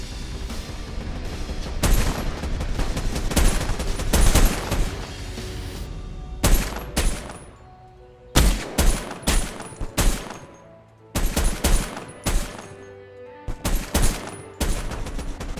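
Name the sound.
enemy suppressive gunfire in video game Ratten Reich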